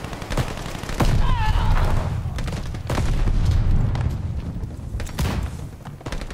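A grenade explodes in the shooter game Call of Duty: Vanguard, a heavy boom buried in dense, continuous gunfire and rapid shots that crackle loudly throughout.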